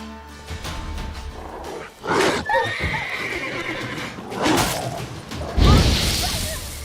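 Video game horse neighing and whinnying with galloping hoofbeats, several loud whinnies rising between steady clip-clop close by, with no talk.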